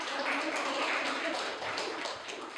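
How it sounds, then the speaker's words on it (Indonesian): A classroom gives a group of students a round of applause after their presentation, with brief, fairly faint clapping from many hands that thins out toward the end. "Kita kasih tepuk tangan untuk kelompok 1 ya."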